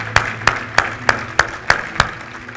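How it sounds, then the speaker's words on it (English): Church congregation clapping during a worship service: seven crisp, evenly spaced claps in a steady unison rhythm, loud and close, with no talk over them. "Give the Lord a hand clap tonight."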